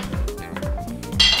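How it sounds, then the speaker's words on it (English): A utensil scrapes and clinks against a plate as brown rice pasta with asparagus, shiitakes, pesto and cheese is spooned out, several quick close metallic taps in a rhythmic run, with a brighter clink at the end. "I'm gonna spoon a little onto my plate here."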